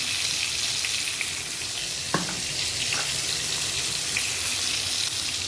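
Pointed gourd fries in a pan, a continuous even sizzle with a couple of faint clicks of a utensil, close and alone without talk.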